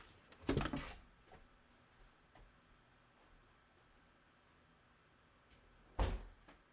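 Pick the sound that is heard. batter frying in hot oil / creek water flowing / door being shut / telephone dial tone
door being shut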